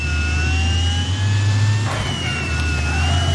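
Bumper car engines in the Wreckfest racing game drone steadily and loudly with a continuous tonal hum, briefly swelling with a short burst near the middle, and no talking.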